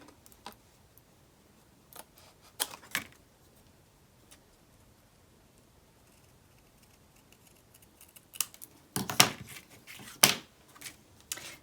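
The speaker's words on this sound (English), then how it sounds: "we're going to take our scissors and you're going to, when you cut this out" Scissors cut card stock for a stamped Christmas card, producing a few faint, sharp snips scattered through an otherwise quiet room, with a denser cluster of crisp cuts toward the end.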